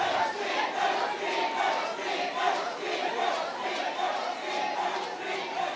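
A packed arena crowd roars and chatters without pause at an Unleash combat fight event, the dense, steady noise swelling in waves while the audience awaits the referees' decision.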